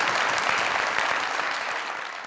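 A studio audience on the Pakistani comedy talk show Mazaq Raat claps loudly and steadily, a dense wash of applause that tapers off slightly toward the end.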